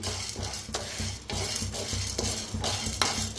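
Chana dal dry-roasting in a pan while being stirred, with repeated scraping sweeps of a utensil against the metal and grains rattling, in a rhythmic, fairly close sequence and no voices.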